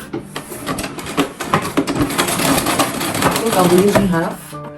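A sewing machine stitches the shoulder seam of a button-up shirt: a dense, steady mechanical whirr with rapid ticking needle strokes, loud and close, running the whole time with a voice faintly present.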